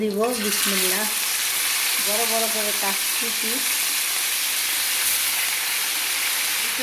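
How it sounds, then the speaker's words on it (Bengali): Pieces of rohu fish fry in hot oil with a loud, steady hiss and sizzle close by, while a voice speaks briefly near the start over the frying. "মাছগুলো এখন ভাজা হচ্ছে"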